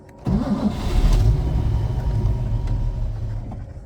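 Cold start of a 1960 Mercedes 220SE Ponton coupe with a 4-speed manual: a brief crank, then the engine catches and settles into a steady, close, rumbling idle.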